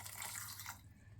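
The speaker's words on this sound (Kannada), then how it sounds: "ಅದೇ ಬೌಲಲ್ಲಿ ಒಂದು ಅರ್ಧ ಬೌಲ್ ನೀರು ಹಾಕ್ಕೊತಾ ಇದ್ದೀನಿ." Water pours into a blender jar while making a mushroom biryani, a soft, close splashing trickle that fades out after about a second.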